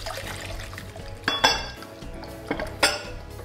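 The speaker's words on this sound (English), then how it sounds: "So mix the eggs, in with the cream" Eggs are stirred together with cream and milk in a bowl for a cheddar and red onion tart, with a few sharp clinks of a utensil against the bowl over a soft, quiet background.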